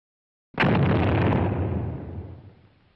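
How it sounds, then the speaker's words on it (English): A WWII sticky bomb grenade explodes after a moment of silence, one sudden loud blast whose roar slowly fades away over a couple of seconds. "Then hopefully the bomb would explode"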